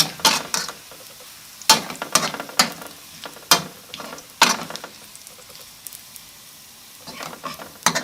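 Garlic and shallots frying in hot oil for crab fried rice, a crackling sizzle broken by repeated sharp scrapes and stirs of a utensil against the pan, close and loud.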